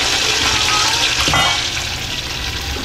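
Tofu fries in hot oil, the pan hissing loudly and steadily with crackling splatter and a brief sharper pop midway, close up and without any talking.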